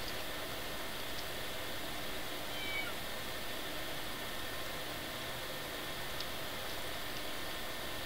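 A Minecraft cat meows faintly a few times, set against a steady hiss of background noise, with no talking.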